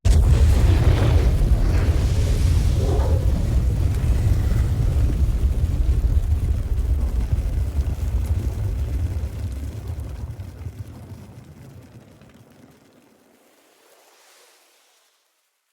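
Explosion and fire sound effect for a war-themed mix, a heavy rumbling roar with strong low end that holds steady, then thins and fades away into the distance until silence.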